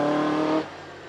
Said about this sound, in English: as Edmund Burgess gets away in the Bugatti Type 51